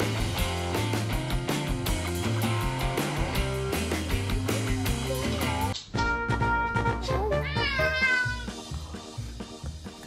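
A cat meows in short, insistent cries over loud, continuous music with a steady beat; the tone rises and wavers in the last seconds as the music thins.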